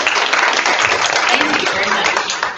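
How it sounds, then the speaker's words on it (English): Loud, close round of applause from the audience at a high school press conference, a dense steady clatter of hands held for a few seconds. "let's give Natasha a big round of applause"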